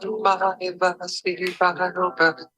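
A recording of a song plays back, its sung vocal phrases carrying steady harmonic notes in a loud, continuous stretch.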